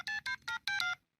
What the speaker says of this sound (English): I'm gonna call Mahmoud right now on this cell phone he gave me